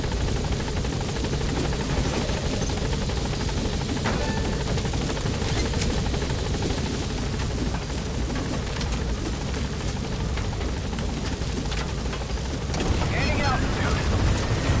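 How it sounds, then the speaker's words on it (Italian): A helicopter-like aircraft in the video game Metal Gear Solid V drones steadily with a constant whirring rumble and wind-like noise throughout, loud and unbroken. "Guardi la lentezza st'aereo"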